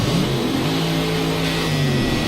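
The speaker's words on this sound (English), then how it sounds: "lovely roaring American engine there" A roaring American race car engine revs hard and steadily, loud and close for the whole stretch, in a racing video game with other cars nearby.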